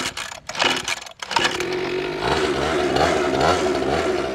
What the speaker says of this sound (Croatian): Idemo sad upaliti motor.